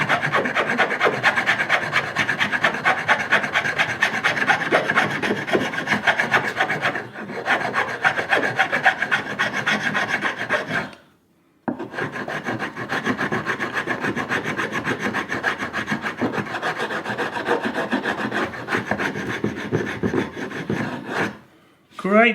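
A hand file rasps back and forth over the wooden underside of a toy crossbow, worked with two hands, a close, steady rhythmic scraping that breaks off briefly mid-way and near the end.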